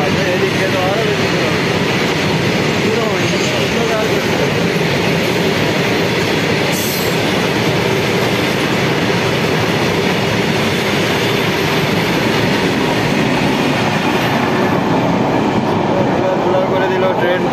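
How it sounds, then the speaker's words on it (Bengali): A train roars steadily through Samsi station, a loud, continuous rumble of wheels and cars at close range that holds for the whole stretch with no clear break. "করে দিল ট্রেনটি পুরো শামসি স্টেশনকে ধুল ধুল করে দিল ট্রেনটা।"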